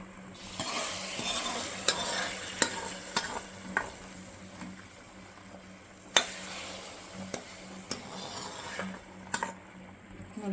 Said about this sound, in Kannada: ಒಗ್ಗರಣೆ ಇದಕ್ಕೆ ಮಿಕ್ಸ್ ಮಾಡ್ಕೊಳ್ಳೋಣ